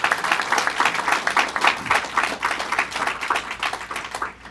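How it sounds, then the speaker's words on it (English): Audience applause at a Citizenship NOW! phonebank event attended by Governor Cuomo, a steady patter of many hands clapping throughout, moderately loud and unbroken, with no voices over it. "let's give them a round of applause"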